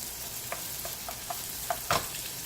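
Shallots and onions sauté in a pan, hissing steadily up close while a spatula taps and scrapes through them several times, the last stroke the loudest.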